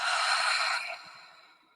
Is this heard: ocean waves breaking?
no